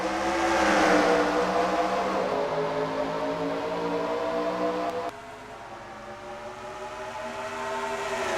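A field of stock cars in a racing video game at Pikes Peak roars off at the start, a loud rising engine whine that swells early, then drops and climbs again.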